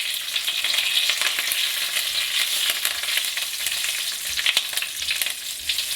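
Chilies and curry leaves frying in hot oil for corn flakes chivda, a dense and continuous crackling sizzle with sharp pops and spits throughout, close and fairly loud.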